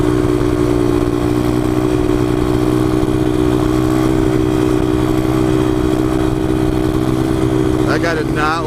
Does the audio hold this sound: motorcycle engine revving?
yes